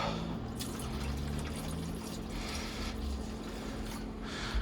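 Liquid poured into an RV black holding tank while winterizing, a steady wet pour and fill running continuously at moderate level over a low background hum, with no talking.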